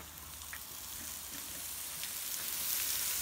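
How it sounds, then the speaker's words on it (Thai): Quiet, steady sizzling of pork frying on a hot Thai barbecue grill pan, a soft crackling hiss with occasional pops. "ปิ้งย่างปิ้งย่าง"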